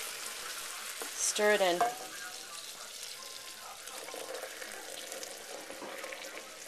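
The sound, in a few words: hot caramel bubbling as cream is added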